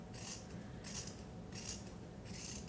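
Fabric scissors snipping fabric in repeated close strokes, about four crisp cuts with a rasping edge, steady and even with no talking; the scissors are dull from use on other materials.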